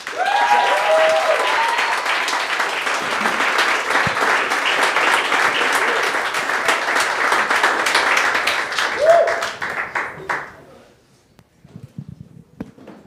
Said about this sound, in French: Un tonne d'applaudissements pour Jérémy Corr!